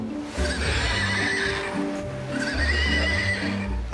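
Two loud, close horse whinnies, one after the other, each ringing out over a bed of clip-clopping hooves.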